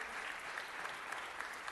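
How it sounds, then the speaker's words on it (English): Applause from the room at a Los Angeles City Council meeting, a brief, steady patter of many hands clapping at moderate volume with no speech. "Let's give Joey B a round of applause"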